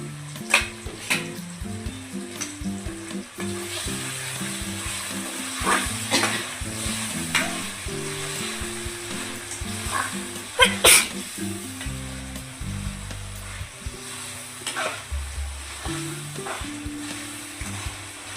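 Cut tomatoes hitting a hot pan with chicken, sizzling and frying steadily while a spoon stirs and scrapes, with occasional clinks of utensils against the pan.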